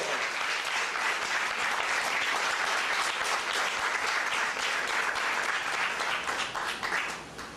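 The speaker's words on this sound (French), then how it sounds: "Il faut l'applaudir." A crowd at a Rethink Haïti gathering in Gonaïves applauds Dr. Katiana Corville with dense, sustained clapping that holds steady before tapering off near the end.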